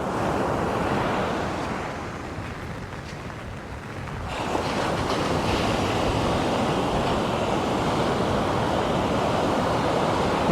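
Heavy ocean surf on Chethi beach in rainy weather crashes and foams against a stone seawall, a loud, continuous roar that dips briefly before surging back at full strength, with wind buffeting the microphone.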